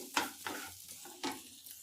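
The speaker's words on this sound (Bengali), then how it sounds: "এবার একটু আমি ঘিয়ের মধ্যে বাদামটা একটু ভেজে নেব হালকা করে" Chopped almonds fry lightly in ghee, with a soft low sizzle broken by a few brief scraping stirs close by.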